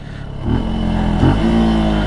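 Benelli Tornado Naked T125 motorcycle engine under way, a loud close droning note that rises as the throttle opens, with a brief blip and shift before settling into a steady higher pitch.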